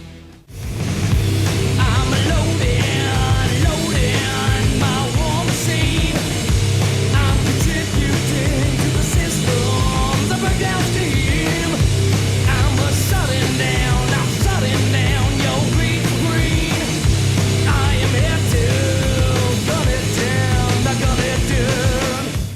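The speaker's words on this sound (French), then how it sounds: "Voici un des premiers groupes de stoner." Stoner metal by a Californian band formed in 1987, with dense distorted guitars, heavy bass and steady drums playing loud and continuous throughout.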